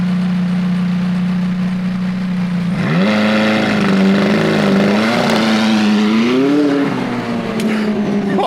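A McLaren 675LT sports car engine idles steadily, then roars up sharply in a launch-control start at full brake and throttle, revving high and surging on for several seconds, close and loud.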